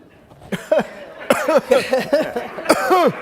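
A person coughs repeatedly, a rapid series of harsh, close coughs in uneven bursts with short pauses between.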